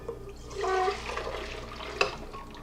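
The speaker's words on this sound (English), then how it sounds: "I'm going to get all of this liquid down in this bowl right here." Liquid mixture of yeast and melted butter poured into a bowl for cinnamon swirl bread, a soft close splashing gush that tapers off, ending with a light knock.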